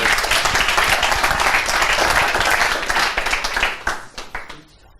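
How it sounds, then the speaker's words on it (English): Warm applause from a startup pitch meetup audience, a full burst of clapping that stays strong for about three seconds, then thins into scattered claps and fades out. "And now I just want a huge and warm applause for Sticky."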